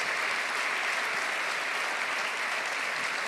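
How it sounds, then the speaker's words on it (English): Steady audience applause from a large crowd, continuous even clapping at moderate distance with no breaks across the whole stretch. "could I ask you to give Sadhguru a big round of applause"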